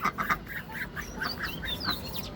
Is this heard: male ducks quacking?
yes